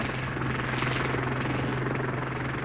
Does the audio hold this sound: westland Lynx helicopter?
yes